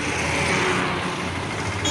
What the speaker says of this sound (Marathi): इतका फास्ट गाड्या तर गेले.